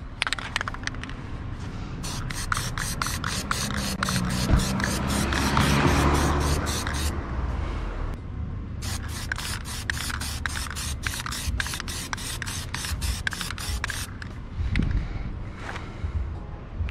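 Plasti-Dip sprays onto car emblems on a 2020 Honda Civic Si in rapid, close hissing bursts, pulsing steadily through two long passes with a short pause between them.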